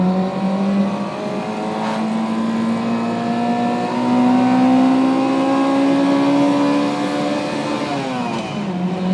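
A 1960s Honda S600 coupe engine revs hard under acceleration on a road leaving a village, its high-pitched note climbing steadily through the rpm range, loud and continuous from up close.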